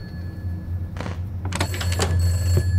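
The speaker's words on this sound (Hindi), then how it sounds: "फोन कैसे बज रहा है" Telephone bell ringing in the horror video game Summer of '58, a few bright electronic rings in bursts over a steady low hum.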